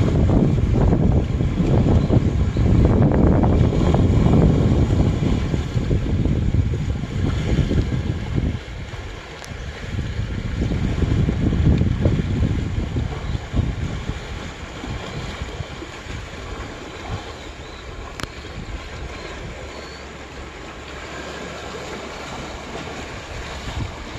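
Loud sea waves surge and wash against the shore of a quiet island, Dumido near Tongyeong, in a continuous roar with swelling peaks, mixed with wind buffeting the microphone.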